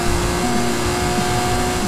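Ferrari FXX K hypercar engine revving hard at high gear during a race in Forza Horizon 5, a loud, steady continuous roar with a rising whine, alone for under two seconds.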